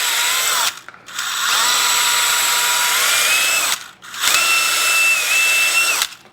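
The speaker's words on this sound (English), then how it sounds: "I take a little ball hone and just with real slow speed run them in and out a few times" Small power drill spinning a ball hone slowly in and out of a Yamaha AT-1 motorcycle part, a loud steady whir that rises and falls in pitch, with two short pauses between runs.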